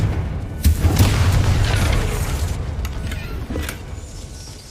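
A Confringo spell explosion in the Hogwarts Legacy video game: a sudden loud boom with a rumbling roar that slowly fades over several seconds, followed by a few faint sharp crackles.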